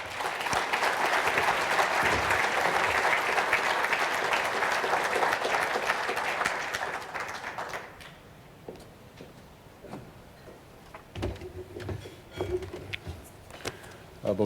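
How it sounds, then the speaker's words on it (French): An audience at a Quebec political gathering gives Pierre Fitzgibbon warm applause, dense clapping that fades out after several seconds, then scattered claps and a few quiet voices in the room. "on applaudit chaleureusement Pierre Fitzgibbon"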